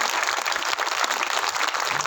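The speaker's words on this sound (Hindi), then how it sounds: "तालियां पूरे सदन से।" A full assembly hall breaks into continuous applause, a dense, even wash of many hands clapping at moderate loudness without a pause.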